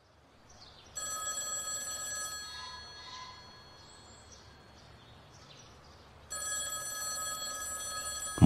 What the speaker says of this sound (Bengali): এই ফোনটা অনেকক্ষণ ধরে বাজছে